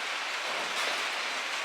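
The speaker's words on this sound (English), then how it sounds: "it's raining pretty substantially" Heavy rain falling outdoors, a dense, even hiss of drops on surfaces, steady and fairly close with no voices.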